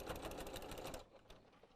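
A sewing machine stitches a rag quilt in a fast, steady mechanical whir for about a second, then stops, leaving quieter room noise.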